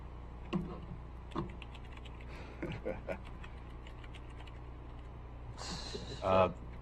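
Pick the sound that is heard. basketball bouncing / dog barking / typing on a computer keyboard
typing on a computer keyboard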